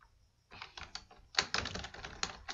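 Fingers type on a computer keyboard at close range, starting with a few separate key clicks, then breaking into quick, uneven bursts of clattering keystrokes.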